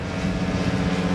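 A radio-controlled Udet U-12 Flamingo tow plane's small propeller engine buzzes steadily at a distance while towing a glider aloft, a continuous droning hum with no voices.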